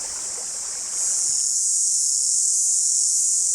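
A dense, steady drone of cicadas on a Great Barrier Reef island in late November fills the air, high and continuous, growing slightly louder after the first second.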